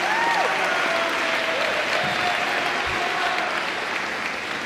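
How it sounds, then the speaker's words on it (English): Sustained applause from a crowd of parents and guests honoring a group of students at a high school signing day, a steady dense wash of clapping lasting throughout without talk. "let's hear one more round of applause for this whole group"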